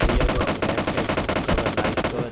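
An M762 rifle fires in an online battle-royale video game, a loud continuous burst of rapid automatic gunfire lasting the whole moment, with no pause between shots.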